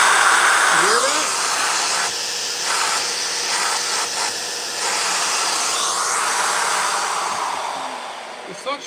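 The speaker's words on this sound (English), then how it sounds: "The suction is louder than the actual vacuum." A loud, steady rushing hiss of woodworking vacuum suction runs throughout, with a brief squeak early and faint knocks near the end.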